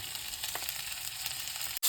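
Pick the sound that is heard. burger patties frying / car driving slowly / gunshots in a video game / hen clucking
burger patties frying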